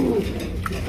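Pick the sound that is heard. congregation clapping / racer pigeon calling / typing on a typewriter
racer pigeon calling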